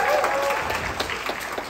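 A crowd applauds, a dense wash of clapping at steady volume that fades slightly toward the end.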